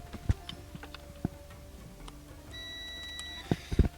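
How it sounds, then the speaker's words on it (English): A multimeter on continuity setting beeps while testing the fuse of an electric heated throw blanket: a steady, moderately loud tone starts midway and holds to the end, over faint clicks and taps from the probes. "Just try a quick continuity on the fuse"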